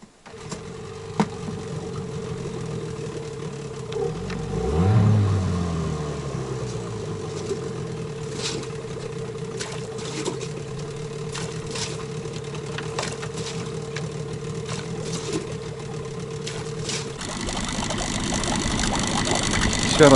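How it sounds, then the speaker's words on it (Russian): A Mikatsu 9.8 outboard boat motor catches and settles into a steady mid-pitched running drone, close and fairly quiet, holding for about twenty seconds with brief knocks and a brighter wash of noise near the end. "Сейчас заведем мотор и поедем."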